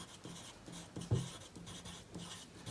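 Chalk or a marker scratches across a classroom board in short, faint strokes with brief pauses, the taps and scrapes of a teacher writing out a list of place names.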